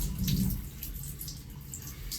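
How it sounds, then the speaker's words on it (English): Water squeezed out of a forge intake foam filter runs and trickles steadily, like a faucet stream, close and moderately quiet, with no talking. "So you're just going to give it a little squeeze here, get the excess out."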